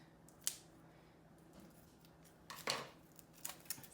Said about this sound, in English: The bane of my existence, the plastic wraps. It's a good thing I have my scissors on hand.